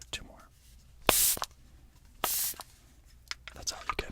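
Two short hissing bursts from a spray bottle misting a product, close and soft in a quiet ASMR setting, with faint whispery sounds and light taps around them.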